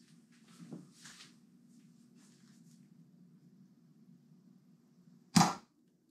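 A Nerf blaster fires a single dart in a physics ballistic pendulum setup, heard as one sharp, close pop after several seconds of quiet background hum, with a couple of faint clicks earlier.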